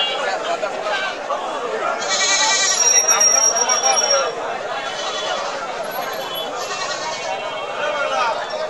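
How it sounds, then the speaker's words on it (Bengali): Native goats bleating at a crowded outdoor goat market, a few loud wavering bleats rising above a constant murmur of people talking. "সম্পূর্ণ দেশি জাতের ছাগল, খাসি বাজার একদম দেশি খাঁটি।"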